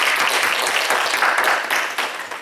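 A church congregation applauds after thanks are given for a meal donated by a couple, with dense steady clapping that is fairly loud and close and tapers slightly at the end.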